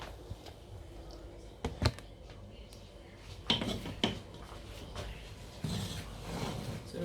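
A spoon scrapes and clinks against a pot of Nigerian party jollof rice, a few sharp metallic knocks among soft rubbing stirs, close but quiet, with faint speech murmuring in the background.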